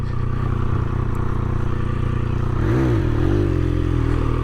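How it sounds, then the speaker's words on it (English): A 2021 Triumph Speed Triple RS exhaust drones steadily while riding, then swoops up and down in pitch as the engine revs shift, loud and close beneath wind noise. "And the exhaust is a little ugly, but it sounds pretty cool."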